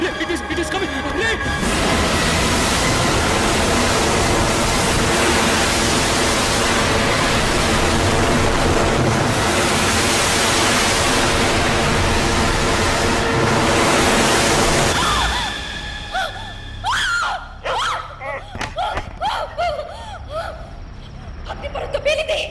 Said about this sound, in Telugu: సముద్రం వచ్చేస్తుంది, మొత్తం నీరు వచ్చేస్తుంది